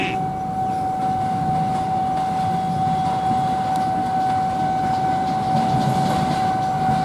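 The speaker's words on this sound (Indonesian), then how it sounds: "Ini kereta KRL yang tadi papasan sama kereta bandara." KRL commuter electric train, a 12-car series 16 bound for Kampung Bandan, rolling past at steady volume with a continuous rumble and a sustained electric whine throughout.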